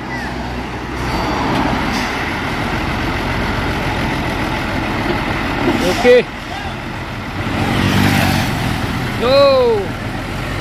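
Three Mitsubishi Fuso 6x2 trucks labor up a steep hill, a continuous heavy diesel engine drone rising and falling as they strain, with brief shouts and voices of onlookers nearby.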